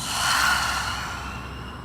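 A single open-mouthed breath pushed out during a Kundalini yoga practice, a breathy rush that peaks early and trails off softly, close and alone with no talking.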